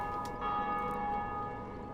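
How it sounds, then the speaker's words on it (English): A bell rings in the video game Dark Souls, a steady sustained metallic tone with lingering overtones, moderately loud and alone for two seconds. "oh, someone's rung the bell."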